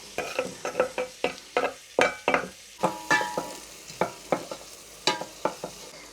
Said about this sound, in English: I've got some melted butter in here and I chopped up an onion. We're gonna add that, let that saute a little.